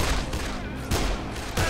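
Rapid gunfire in the video game Dead Island, with dense, loud bursts of shots rolling into one another across a continuous booming barrage.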